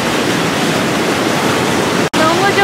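Water from a foot shower at Plitvice, Croatia, pouring over bare feet in flip-flops, a loud, constant close rush with one brief cutout near the end.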